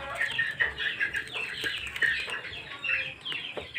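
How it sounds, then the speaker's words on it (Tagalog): Chickens cluck and squawk noisily close by, overlapping calls from several birds in a busy, continuous chatter. "Ang ingay sa mga manok."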